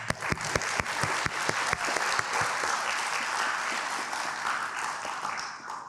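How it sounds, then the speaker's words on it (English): A graduation ceremony audience gives a round of applause, with loud, dense clapping that starts sharply and gradually thins and fades. "So we would like to give you a round of applause."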